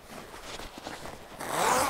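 Zipper being run on a newly sewn coat with a collar, elastic sleeve cuffs and hem: a quiet, brief rasping scrape that grows louder and denser near the end, heard alone without voices.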